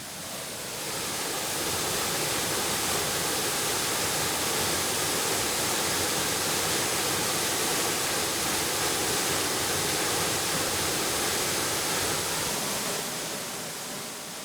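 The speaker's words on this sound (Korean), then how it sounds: "장쾌한 물줄기가 쏟아져 내리는 이곳은 영동 제1의 폭포인" Okgye Falls in Yeongdong, Korea, pours down in a powerful, steady roar of rushing water, broadband and unbroken, heard up close and alone with no voices.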